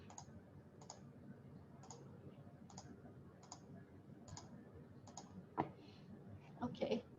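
A computer mouse clicks in a structural analysis program, giving a steady series of faint, evenly spaced clicks over a low room hum, followed by a few louder, busier clicks at the end, no speech.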